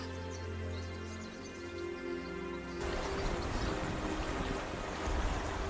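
A waterfall splashing in a Guangxi canyon. Soft tonal sounds give way to a loud, steady broadband rush of falling water that continues to the end.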